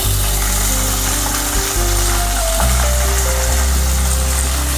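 Green chilies sizzling in hot oil for a puffed rice chivda, a loud close crackle and hiss that stays steady, with a few heavier pops and a low rumble of the stove underneath.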